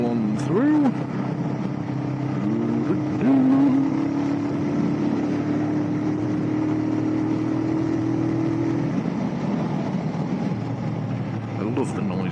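A motorcycle engine running at mid and low revs on a road ride, a steady droning tone that dips and rises briefly early on, then holds before easing off, with a rider talking over it.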